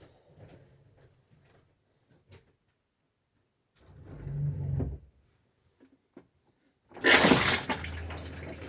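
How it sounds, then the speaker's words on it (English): A toilet flushes in a Jayco Whitehawk 28DSBH camper, a sudden loud whooshing rush of water lasting about a second and a half, following quieter clunks and a softer burst of water and pump noise earlier. "Toilet flushes, everything works."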